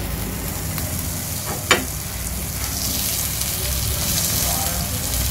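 A chicken club sandwich sizzles in butter in a pan, a steady crackling fry throughout with a brief sharp clink of a utensil partway in; someone speaks over it.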